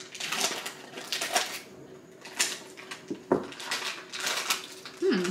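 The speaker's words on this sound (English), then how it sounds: "Just cut them out with the scissors." Scissors snip through crackly plastic packaging to cut out soy crackers, giving a series of irregular crinkling and cutting bursts at close range, with faint voices in the background.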